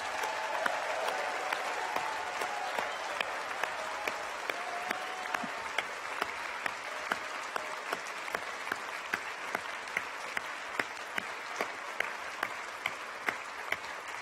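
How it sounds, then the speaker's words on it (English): Sustained applause fills a hall at a university graduation ceremony as the audience claps for its graduates: a dense, even wash of many hands with a few sharper individual claps standing out, heard from within the crowd. "one more round of applause for our graduates, honorary and otherwise."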